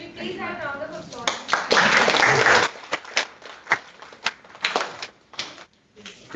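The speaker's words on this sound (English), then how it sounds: "Can we please have a round of applause?" Audience at a fellowship grant felicitation ceremony breaks into a short burst of applause, then scattered individual claps taper off, with a voice speaking over the start.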